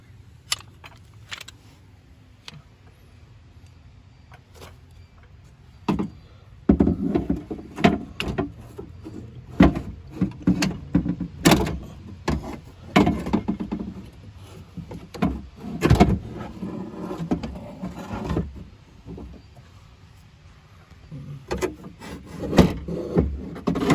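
Window motor assembly for a 2002 Chevrolet Cavalier front door is worked back into the door cavity, giving scraping, rubbing and sharp knocking clatters of metal against the door panel, irregular and close.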